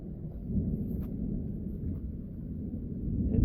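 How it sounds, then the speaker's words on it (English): Distant thunder rolls low and faint on a rainy night hike along the Black Creek Trail, a soft continuous rumble that builds slightly at the end, heard alone without voices. "It's thundering"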